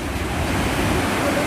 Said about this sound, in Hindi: उसके कलकल छलछल के साथ चट्टानों से टकराती हुई ये दृश्यावली